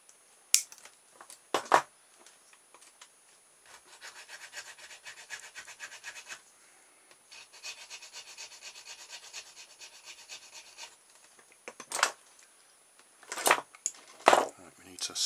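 A part of a homemade infrared remote-controlled water pump car being cut off: repeated rubbing, rasping cutting strokes at close range, with sharper snips and scrapes at the start and end and quiet pauses between.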